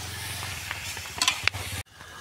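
Chicken fries in oil over a cooking fire at Kasheli beach, a close, steady sizzle with a few sharp utensil clinks near the end before it drops away abruptly.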